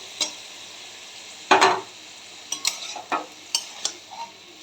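Poppy seed paste gets stirred into bottle gourd greens in a sizzling pan, with a handful of short scraping strokes and utensil knocks, close and fairly loud, with no talking.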